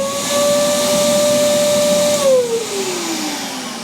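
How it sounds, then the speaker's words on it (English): A very early Hoover Junior upright vacuum cleaner running loudly up close, a steady high whine and rushing hiss that drops in pitch as the motor winds down near the end. "a very, very early Hoover Junior Hoover, which weighed about as much as a car,"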